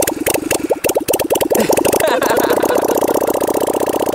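A V-twin motorcycle engine runs close by in a steady, loud drone, with a burst of revving near the start before it settles into an even idle-like rumble.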